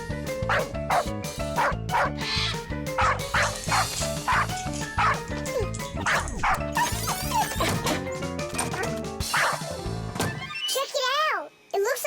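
A cartoon parrot voiced by a person imitates a dog with a rapid run of yips, barks and whimpers, close and loud, mixed with a child-like voice and animated music.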